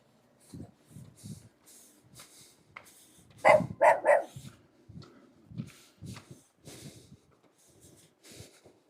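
A dog barks in a short burst of three or four loud, close barks partway through, with quieter snorts and footsteps around it, heard beside a village senior center on a long coastal walking trail in Korea.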